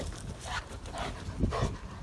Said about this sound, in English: I've got dogs fighting on me at the moment